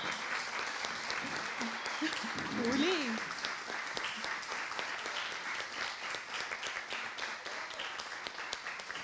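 An audience applauds the Páramo team standing at an anniversary conversatorio of the Instituto Humboldt, with dense, steady clapping filling the whole stretch and brief voices rising over it partway through.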